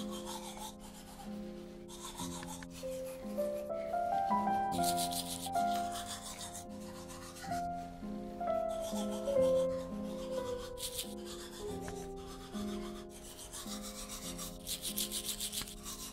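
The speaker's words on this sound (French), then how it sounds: "Il se brosse les dents." A toothbrush scrubs teeth in a bathroom, a steady rubbing and scraping that comes in repeated strokes under continuous background music.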